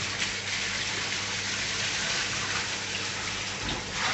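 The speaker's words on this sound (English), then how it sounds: "It's time we put the water in and start topping her back up." Fresh water gushes and splashes steadily as it is poured into a snapping turtle's tank, a continuous close rushing pour with no voices.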